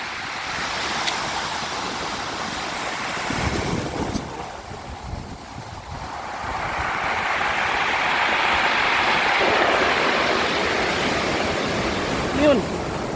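A strong overflow of seawater rushes over rocks, a loud continuous roar and surge with wind buffeting the microphone, swelling stronger in the second half.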